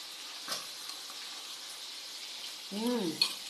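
Fish frying in hot oil gives a steady close sizzle throughout, with a brief scraping stir near the end.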